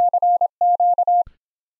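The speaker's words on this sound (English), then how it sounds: "I'm just using this as a test tone" Morse code test tone routed through JACKROUTER audio: a clean, steady mid-pitched beep keyed in short and long pulses for just over a second, then stopping abruptly, with nothing else heard.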